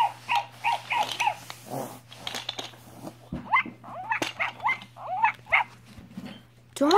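A dog growls and barks in a mix of snarls, yelps and whimpers, loud and close, in bursts with short pauses, over a faint steady hum.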